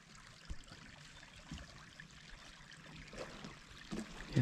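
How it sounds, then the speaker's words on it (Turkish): A village stream trickles and flows steadily, a soft continuous babble of running water at modest distance, with faint scattered splashes and no talking. "Şırıl şırıl ne güzel akıyor."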